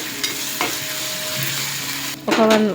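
Turmeric fries in a hot pan for prawn curry, a quiet sizzle broken by a few sharp scraping stirs, ending with a louder scrape and a tonal clatter.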